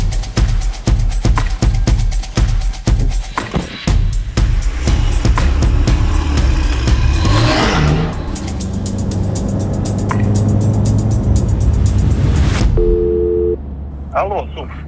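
A car engine revs and pulls away amid rhythmic thumping music and road noise, then a phone ringback tone sounds near the end as the driving fades; voices speak over parts of it.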